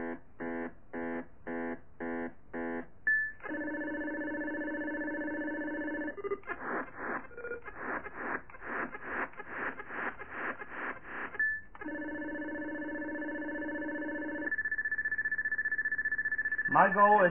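Cosmic Ark on the Atari 2600 plays its chiptune game sounds: rapid pulsing beeps, sustained buzzing tones and warbling sweeps in bursts, moderately loud and alone.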